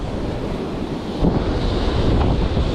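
Surf breaking over an outer sandbar offshore, heard as a steady broadband wash of waves mixed with wind buffeting the microphone, growing a little louder and rougher midway through.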